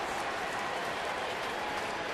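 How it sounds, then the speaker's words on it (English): A Houston ballpark crowd applauds Lance Berkman as he comes up to bat, a steady, even wash of clapping from a distant mass of fans that holds without a break. "Lance has been greeted by nice rounds of applause as he's come back."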